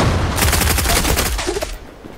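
Rapid bursts of automatic gunfire from the online shooter game Zula, loud and continuous for about a second and a half before cutting off abruptly, leaving a faint tail.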